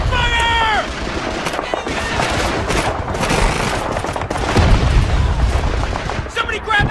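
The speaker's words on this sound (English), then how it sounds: "Suppressing fire!" Sustained machine gun suppressing fire on a beach battlefield in Call of Duty 2, a steady, loud wash of rattling shots and blasts that runs on without pause beneath brief shouting.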